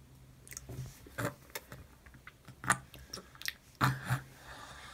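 A child chewing banana and peanut butter on toast: close, soft, wet mouth sounds and bites in irregular bursts, quiet between chews, with no talking.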